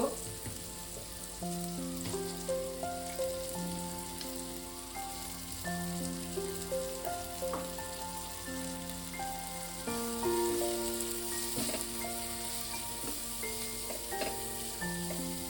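Chicken wings sizzle steadily in a hot pan for spicy crispy wings, with a dense crackle of fat running throughout and occasional stirring knocks, close and continuous; tonal music plays over the frying.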